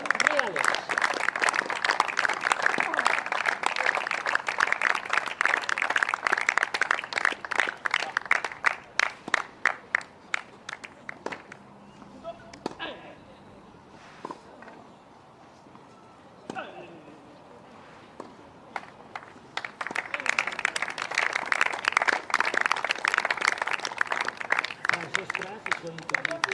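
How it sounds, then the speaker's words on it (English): A crowd at a wheelchair tennis trophy ceremony applauds the chair umpire with sustained clapping that fades into a quieter lull, where a voice briefly speaks, then swells into another round of loud applause. "Please, applause for Raúl Reales."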